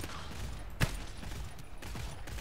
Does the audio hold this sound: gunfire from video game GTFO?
yes